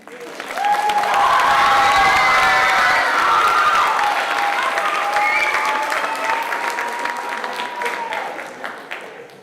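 Audience applause at a Comstock High School spring band concert, a full crowd clapping loudly and steadily for several seconds with some cheering and voices mixed in, slowly thinning toward the end.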